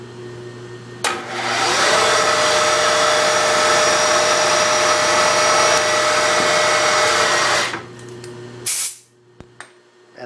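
A compressed air hose blows drilling chips off a part held against vise stops after the machine is turned off: one loud, steady hiss of about seven seconds that cuts off sharply, followed by a few small clicks.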